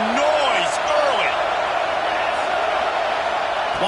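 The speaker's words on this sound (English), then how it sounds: "This crowd bringing the energy and noise early." A college football stadium crowd at Texas A&M versus SMU makes a steady, loud roar with scattered whoops and shouts rising over it, continuous throughout.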